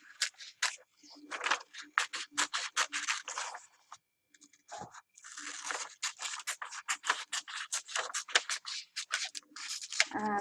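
Scissors snip through paper in a quick run of sharp, close cuts, pausing briefly before a second steady series of snips.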